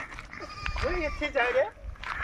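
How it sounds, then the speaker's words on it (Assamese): Goats bleat close by in a village, a couple of quavering calls over a low rural background with a voice in the background. "ইয়াতে বহুত গৰু ছাগলী আছে।"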